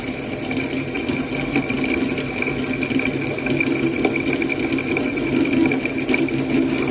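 An orange Chang Samran pellet press from Surin runs under load with a 15 kg feed mix, giving a steady, even mechanical hum with a fast rattling texture and no pauses.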